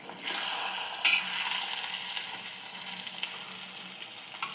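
Potato, fenugreek and spinach sabzi sizzling in a pan just after salt is added, a close steady frying hiss broken by a few quick scrapes and taps of a stirring spoon.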